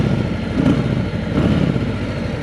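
A Harley-Davidson Softail Sport Glide with a 107 cubic inch M8 V-twin engine rumbles loud and close, a steady, throaty low pulse without any talk.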